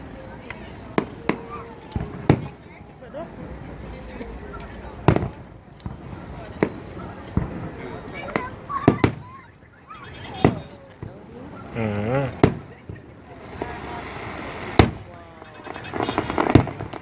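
New Year's fireworks burst over the Kingston, Jamaica waterfront, with irregular sharp bangs and crackling pops at a distance while onlookers talk nearby.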